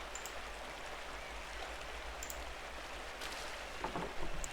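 Waterfall in the medieval adventure game Pentiment, a steady broadband rush of falling water that holds evenly throughout, with a few faint clicks and a slight swell near the end.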